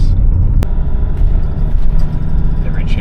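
An old diesel Sprinter van drives along a coastal road, its engine giving a steady, close low rumble throughout, with a brief sharp click early on and faint higher noises near the end.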